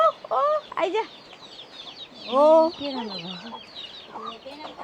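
Chickens cluck in short bursts nearby, with a drawn-out squawk in the middle and a few more clucks after.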